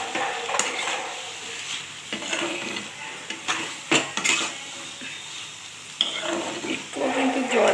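Snake gourd stirred with mustard oil in a pan, intermittent scraping and clinking of a utensil against the pan over a light sizzle, close, with uneven bursts and pauses and no talk.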